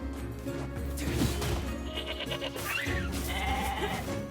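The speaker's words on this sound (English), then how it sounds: "I wish they didn't make the shocked animal noise when I do that." A goat in the video game NieR Replicant lets out a short, wavering bleat amid game sound effects and a dense background score.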